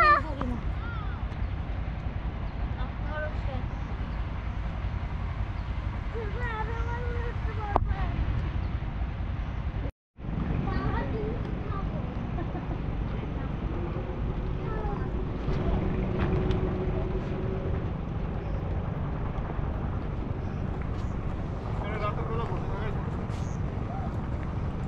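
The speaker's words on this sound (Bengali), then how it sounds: "এই শুধু হচ্ছে নৌকার সাউন্ড গুলা, আর তো কোনো সাউন্ড নাই।" A boat engine drones steadily on a river, a continuous low rumble mixed with wind buffeting the microphone, with faint voices underneath and a brief dropout partway through.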